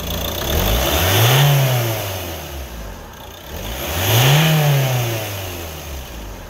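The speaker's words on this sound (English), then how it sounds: "Start the engine and ensure the LEDs illuminate" A Ford S-Max 2.0 TDCI diesel engine runs close by and revs twice, each rev rising and then falling back toward idle, loud and with no talk over it.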